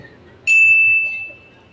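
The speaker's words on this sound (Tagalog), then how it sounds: "Nag-doorbell ulit." One clear doorbell ding sounds alone, ringing briefly before fading into a quiet room.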